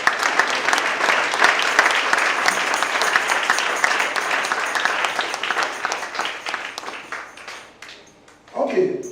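Applause for a woman during a church service, a loud run of many people clapping that gradually thins and fades, ending in a short spoken voice near the close.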